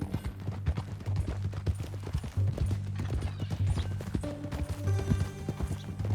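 Horse hooves clip-clop steadily at a walking pace in Red Dead Redemption 2, close and rhythmic, with a low ambient music bed underneath.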